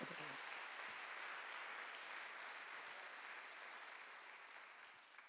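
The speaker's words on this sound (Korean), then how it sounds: "박수 좀 세게 쳐봐요" A church congregation claps together during a Sunday worship service, a dense, sustained wash of applause that stays loud and steady before tapering slightly at the end.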